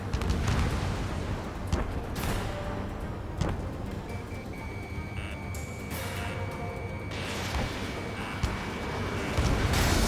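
Dense, rumbling booms and crackling blasts from Ace Combat 7: Skies Unknown, several sharp bursts over a continuous roaring background, loud and chaotic.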